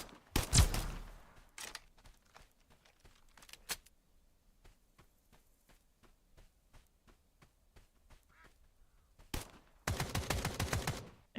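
AK rifle fire in a video game: a loud burst of rapid shots, then a string of separate, fainter single cracks, and another dense sustained volley near the end, with no talking.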